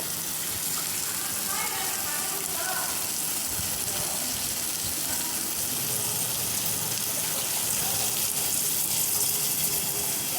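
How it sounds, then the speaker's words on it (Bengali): Water poured into a pan of cooking molandi fish curry, a steady rushing gush over a hissing simmer, close and continuous for the whole stretch. "এই যে পরিমাণ মতো জল দিয়ে দিয়েছি, বেশি না অল্প একটু জল দিয়েছি।"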